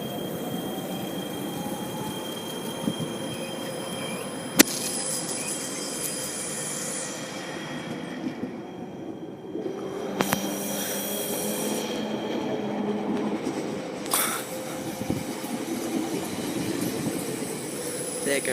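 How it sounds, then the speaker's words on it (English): A Queensland Rail tilt train pulls away from Gladstone station with steady rolling rumble, wheel squeal and clattering wheels, loud and close at first and continuing throughout, with a few sharp clanks along the way. "There goes the tilt train."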